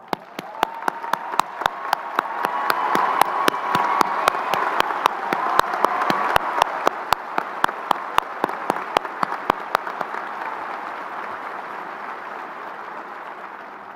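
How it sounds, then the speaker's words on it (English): Crowd applause at a high school graduation ceremony honoring veterans, sustained many-handed clapping that swells, holds and slowly fades over about fourteen seconds, with a few sharp nearby claps standing out. "Those veterans, please rise to receive a well-deserved round of applause."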